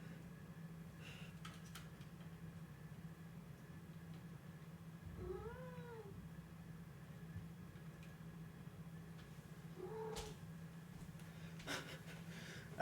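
A cat meows twice, faint and soft, in a quiet kitchen over a steady low electrical hum. Light rustles and clicks are scattered around the meows, and nobody speaks.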